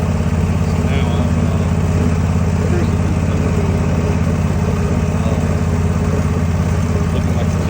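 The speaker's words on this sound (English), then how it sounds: "I got a blower on my back." Backpack leaf blower engine running steadily and loud throughout, a continuous close-up mechanical drone with a low rumble, heard outdoors during lawn care work.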